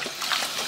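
Tap water running at high flow over dishes in a kitchen sink, a steady broadband splashing rush that holds for under a second without voices.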